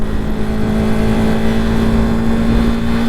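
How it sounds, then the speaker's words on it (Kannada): A Royal Enfield Himalayan motorcycle on a group Sunday ride accelerating through quick gear shifts, its engine loud and close with a strong steady drone and slight rises in revs. "ಪಟ ಪಟ ಅಂತ ಗೇರ್ ಶಿಫ್ಟ್ ಆದರೆ ಪಿಕಪ್ ಎಳ್ಕೊಂಡು ಹೋಗುತ್ತೆ"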